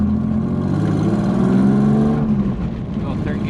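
A turbocharged BMW E36 accelerates hard through the gears, its engine note rising in pitch then dropping at a shift, loud and close, with a voice briefly heard over it.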